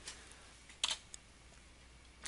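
A few sharp, light clicks of a computer mouse pressing an OK button, scattered over a quiet room hiss, the last click slightly louder.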